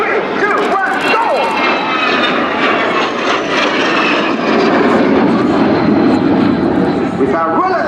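Aerobatic display jets at the Royal International Air Tattoo, Fairford, roar through an opposing pass, a loud sustained jet rush building toward the end while an announcer talks over it.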